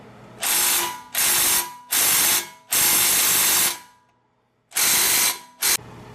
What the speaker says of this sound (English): while I just spray this down with WD-40, that big bolt